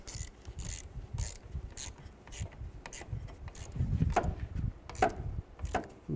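A ratchet tightens down a ground connector in a run of short, scraping clicks and bursts at close range, with no talk over it.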